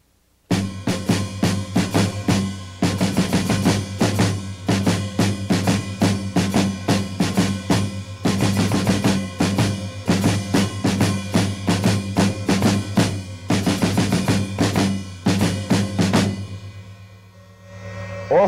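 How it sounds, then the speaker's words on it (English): Drum kit playing a two-measure Latin rock rhythm built on broken 16th notes, loud and close, with steady repeating hits looping alone for about seventeen seconds before a brief decay. "exercise C is a two-measure phrase of a Latin rock rhythm that I wrote using broken 16th notes"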